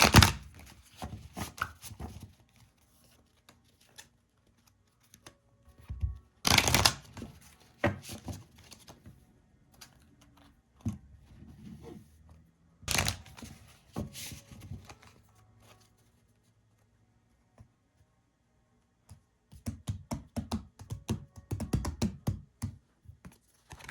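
A deck of tarot-style cards is shuffled in bursts of riffling and soft papery clicks, with quiet gaps between handfuls, close and gentle.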